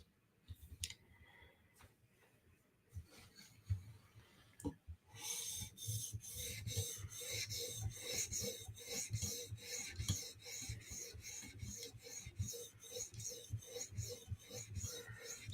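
A knife blade is drawn over an 800 grit whetstone in quick, regular strokes, a close scraping rasp with sharp clicks that starts sparse and then settles into a fast, steady rhythm.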